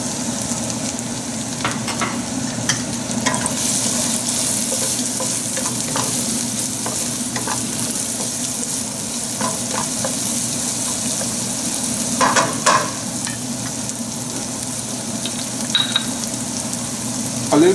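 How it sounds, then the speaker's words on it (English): A medium onion sautéing in a pan for a spicy cannelloni filling: a steady close sizzle and frying hiss runs throughout, broken by the scrape and clatter of stirring. "So I have one onion, medium onion here, and I'm going to saute this."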